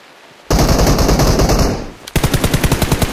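AUG assault rifle fire in a video game: a long sustained burst that tapers off, then a second run of distinct rapid shots, loud and close, with no talking over it.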